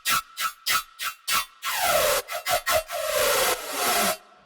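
A Serum synth lead built from two detuned saw waves with an unusual attack and a wide portamento glide: several short bright stabs, then long held notes sliding downward in pitch, loud and upfront, no talking.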